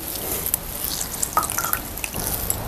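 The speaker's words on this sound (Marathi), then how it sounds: "आपल्याला दुमडून ह्यातलं सगळं पाणी काढून घ्यायचं निथळून" Soaked bread folded and squeezed by hand, water dripping and trickling out in small irregular splashes with soft squelching, close and moderately loud, no talking.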